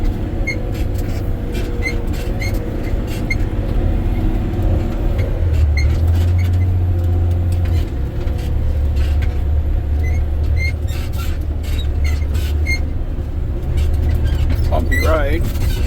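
A Volvo A30 rock truck climbs a 13% grade locked in third gear, its engine a loud, steady, low drone heard from the cab with rattles and bumps throughout.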